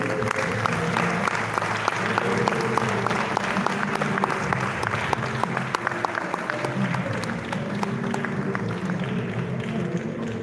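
Sustained applause fills a large hall during the NLNG Grand Award Night as the Nigeria Prize for Literary Criticism 2020-2021 goes to Uchechukwu Peter Omezike, steady dense clapping from a big crowd throughout.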